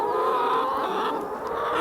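Chickens clucking at a farm on Phillip Island, a steady close chorus of hens filling the whole moment with no talk over it.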